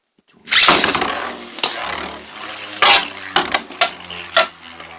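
Two Beyblade tops, Master Diabolos and Dread Bahamut, launched into a stadium, with a loud whirring rip at launch followed by scraping spins and several sharp metallic clashes and rail knocks, no talking.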